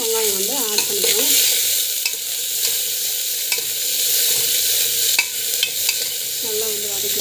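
Onions sautéing in oil with mustard seeds, garlic and cumin, giving a bright continuous sizzle close up, broken by scraping stirs of a utensil in the pan.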